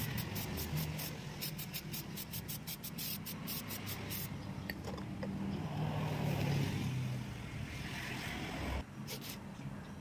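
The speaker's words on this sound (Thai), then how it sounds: "ล้างทำความสะอาดด้วยน้ำยาทำความสะอาดเบรกโดยเฉพาะนะครับ" Brake cleaner sprayed onto the rear drum brake parts of a Toyota Vigo pickup gives a steady hiss with rapid spurting bursts early on, then a continuous broad spray, close and fairly loud, no talking.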